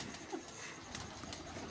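Pigeons coo softly amid a dense, noisy background, with faint low coos barely rising above the steady ambient hiss.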